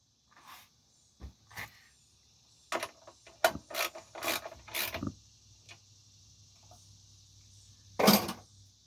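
A bolt is tightened with a ratchet while changing an ignition coil, giving bursts of quick metallic clicking in short runs, then a pause and one final louder burst, close up.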